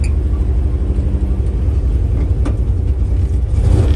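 A car engine idles at low RPM on a cold start, a steady close low rumble running throughout with no talking.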